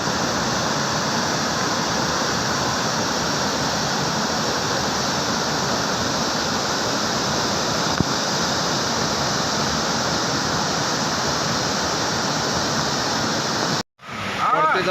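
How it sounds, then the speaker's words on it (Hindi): Rising floodwater rushes in a loud, continuous, broadband roar that holds steady for about fourteen seconds before a brief dropout and resumption. "बढ़ते जा रहा पानी, बढ़ते जा रहा"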